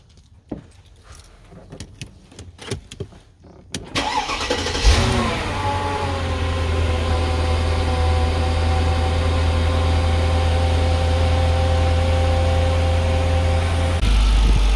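A few clicks and rattles come first, then a Mercedes W210 E55 AMG engine cranks, catches and settles into a steady, droning idle.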